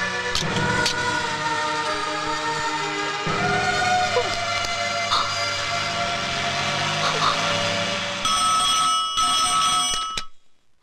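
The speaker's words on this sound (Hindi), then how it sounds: "अरे रे उमा सुनिए, अमेरिका से फोन है।" A telephone rings in a dubbed South Indian film scene, with repeated electronic bell tones sounding over a steady background hum until they cut off near the end.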